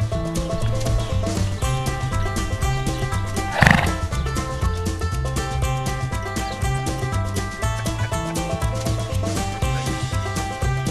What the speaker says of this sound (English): What is that, a donkey?